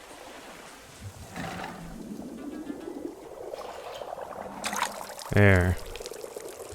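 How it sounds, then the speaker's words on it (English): Coffee poured onto an already overflowing cup in the video game Wanderstop, a short liquid pour rising near the end, with a voice talking over quiet background sound. "Now we're just gonna pour some on top of here."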